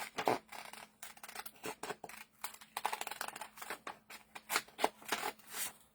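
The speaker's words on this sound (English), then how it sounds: "going to switch out to my bigger scissors." Small scissors snip around paper in quick, irregular crisp cuts with short pauses between, close and fairly quiet, no talking.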